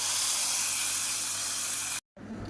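Hot tempering for a spinach and lentil kootu sizzles in a loud, steady hiss for about two seconds, then cuts off abruptly before a softer noise returns.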